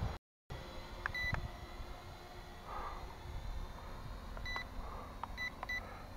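An Eachine E511S drone controller gives short electronic beeps as it switches speed mode, a few brief tones spaced across a quiet background hum.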